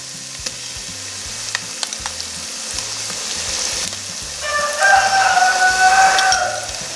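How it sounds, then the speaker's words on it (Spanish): Ají mirasol paste fries slowly with browned garlic in a pot, a steady close sizzle with light spatters and ticks, swelling into a louder bubbling hiss near the end. "El ají mirasol ya se ha sofreído muy bien"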